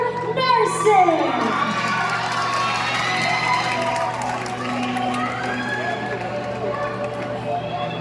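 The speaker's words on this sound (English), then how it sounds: "Everyone, a warm round of applause for Mr. Nursing." A crowd at a Mr. & Ms. CPU 2024 pageant cheers, shouts and claps for a male contestant, with loud excited voices and whoops rising at the start before settling into a busy hall murmur.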